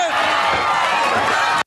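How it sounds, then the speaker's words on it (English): A wrestling arena crowd roars and cheers steadily and loudly after an upset win in a 1986 World Championship Wrestling match, a dense wash of voices that cuts off abruptly. "Crowd goes wild."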